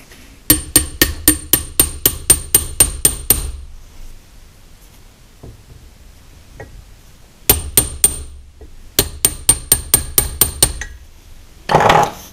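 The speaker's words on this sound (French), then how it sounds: "On va déjà essayer de le frapper dedans doucement." A hammer drives a steel piece into a Chevrolet Van power steering box with two runs of about a dozen sharp, ringing metallic strikes in an even rhythm, separated by a quieter pause, all near and loud.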